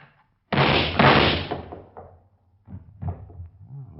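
A door in a 1949 radio drama bursts open with a loud slam and a rushing thud, followed by scuffling knocks and bumps as the noise settles.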